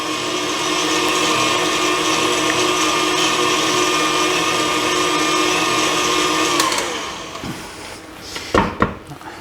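A kitchen mixer whirs steadily while mixing a Tang pie filling, a loud continuous motor drone that winds down near the end, followed by a few clinks and scraping knocks against the bowl.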